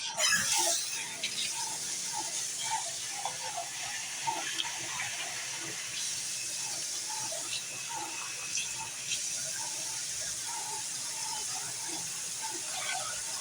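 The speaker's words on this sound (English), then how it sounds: "I'm going to add some more water just to clean my bowl out where I still had some remnants." Water poured from a bowl into a pot of chicken and sausage gumbo, a steady soft splashing trickle with faint hiss, close and continuous for several seconds.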